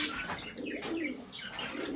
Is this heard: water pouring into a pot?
no